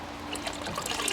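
Water trickles from a hose pipe attached to the side of a bucket as the valve lets it refill automatically, a soft steady splashing and dribbling close by, with no talk.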